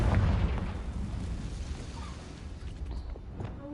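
A Confringo fire spell explodes in the video game Hogwarts Legacy, a loud booming burst at the start that fades into a low rumble, with no one speaking.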